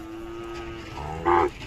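A Khillar cow at a livestock fair lets out one loud, close moo that swells sharply near the end, with a softer lowing tone leading into it and no talk.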